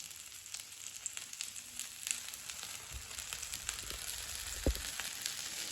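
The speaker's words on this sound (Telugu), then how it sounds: "కొంచెం దోశ అయితే మంచిగా హీట్ అయిపోయిన తర్వాత చివర్లకి ఆయిల్ పోసుకోవాలన్నమాట" Oil sizzles steadily around a pink dosa frying on a hot pan, a continuous close crackling hiss with small pops and occasional louder spits, no voices.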